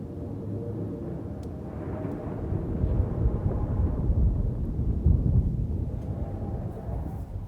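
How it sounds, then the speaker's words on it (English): Distant thunder from the adventure game The Longest Journey rolls as a long, low, steady rumble that swells slightly midway and then settles, with no voices over it. "It sounds like distant thunder"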